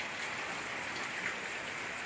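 Rain pours down over a grassy garden in an unbroken, even wash of patter and hiss, close and steady for the whole stretch, with no talking.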